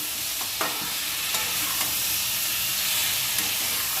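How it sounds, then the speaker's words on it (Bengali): Spice masala with turmeric, salt and sugar sautéing in oil in a pan, a dense steady sizzle with a few soft scrapes of a spoon, close and with no voices. "এবার কষাচ্ছি, কষিয়ে এই যে কষাতে যখন মনে হবে যে একটু তেল ছেড়ে আসছে, তখন জল দিয়ে দেবো।"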